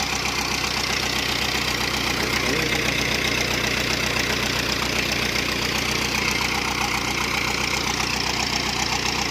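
A diesel engine drives a water pump at a well on a farm, chugging in a steady, loud, knocking idle rhythm that runs continuously without a break.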